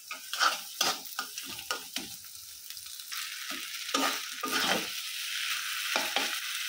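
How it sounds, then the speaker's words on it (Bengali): Noodles cooking in a pan, a run of scraping stirs and clatters over a hissing sizzle that swells louder midway, close by with no talk. "একটু নুডলস রানবো, রান্না করে খাওয়াই নিব"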